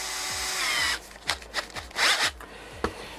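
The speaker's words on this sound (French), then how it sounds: "on fait les trous dans notre aluminium avec la mèche de 5" A power drill with a 5 mm bit bores holes in aluminium for a motorcycle seat repair, a high whirring hiss followed by several short bursts of drilling and handling noises up close, no speech.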